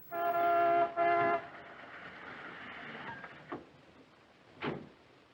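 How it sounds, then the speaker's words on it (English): Car horns honking outside in a scene from the 1952 film Ikiru, two long loud tonal blasts in quick succession, followed by quieter street noise and a couple of brief distant honks. "The honking horns outside signal the arrival of a group of reporters."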